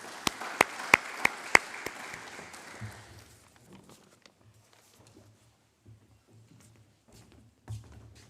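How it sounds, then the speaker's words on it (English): Audience at a college sports awards night giving the players a round of applause, a few sharp claps up front that quickly thin out, followed by faint shuffling and thuds in a quiet hall. "If we can once again give all our players another round of applause."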